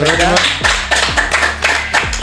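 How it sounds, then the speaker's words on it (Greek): Applause for a guest at the end of a Greek talk show interview, a handful of loud, irregular claps close by, with a voice speaking over them. "Έλα τώρα χειροκρότημα."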